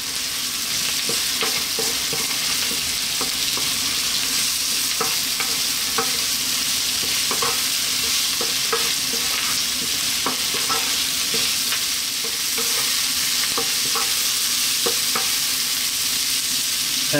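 Cauliflower and onions sizzle steadily in a pan for the whole stretch, with frequent scraping stirs and little clicks from the utensil against the metal, close and continuous, no voices.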